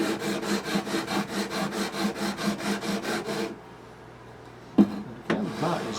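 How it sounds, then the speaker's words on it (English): Frets on a Yamaha F310 acoustic guitar being sanded, with the sanding pressed down toward the sound hole. A steady rhythmic back-and-forth rasp repeats for about three and a half seconds, then stops, followed by a couple of short knocks. "I am kind of pressing downward toward the sound hole, just to make sure I get these frets sanded"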